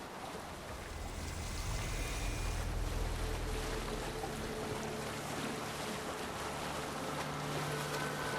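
A Viking longship from Valhalla sails across open water, a constant wash of waves and wind with a low hull rumble swelling after the first second, steady and without speech.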